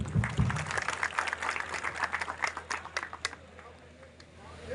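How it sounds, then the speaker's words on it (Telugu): Audience applause at a Telugu Desam Party political gathering, a dense wash of many hands clapping that swells early and gradually thins out, with a low steady hum beneath. "వారికి మనందరం కూడా జేజేలు పలుకుతూ మరొక్కసారి చప్పట్లు"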